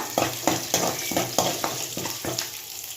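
Cumin, urad dal, chana dal and mustard seeds fry in hot tempering oil for a prawn dish, a close sizzle broken by about eight rhythmic stirring bursts.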